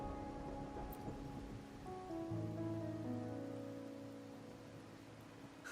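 Steady rain falls in the video game Wuthering Waves, a soft continuous patter beneath sustained music tones that slowly fade, with no voices.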